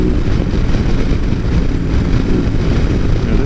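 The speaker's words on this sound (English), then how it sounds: "The Bagger I rode last time did not sound this grumbly." Rumbling engine of a BMW R18 Bagger motorcycle fitted with aftermarket non-stock pipes, a steady loud low grumble with wind noise while riding, continuous throughout.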